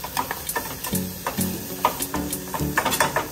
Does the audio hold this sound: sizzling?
yes